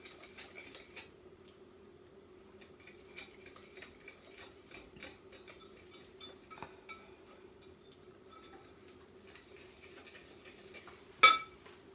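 Dry ingredients stirred into wet ingredients in a bowl, heard as soft scraping and light clinks of a utensil against the bowl, with a louder clatter near the end.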